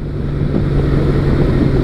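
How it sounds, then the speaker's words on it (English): Wind buffets the microphone on a Honda Valkyrie motorcycle out on a windy day, a loud, continuous low roar blended with engine drone and no speech. "it's kind of a windy day, and I'm real curious to hear how this new mic is performing"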